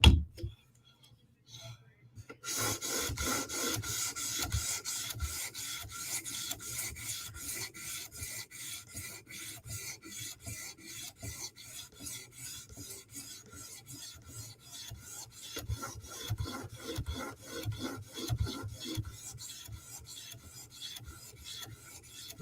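A knife blade is drawn across a 400 grit sharpening stone with a close, rhythmic rasp, fast repeated strokes scraping on after a brief quiet start, with no speech.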